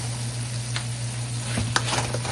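Chow mein noodles sizzle in a hot pan with sweet chili and plum sauces, a steady close frying hiss broken by a few brief scraping stir strokes near the end.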